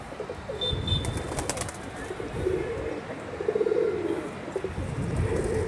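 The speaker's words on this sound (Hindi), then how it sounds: "अभी भी फ़िलहाल में कबूतर उड़ रहे हैं" Pigeons wheel overhead from a rooftop loft while others coo nearby, a steady low murmur of cooing with a faint rustle of wings and a few brief chirps from other birds.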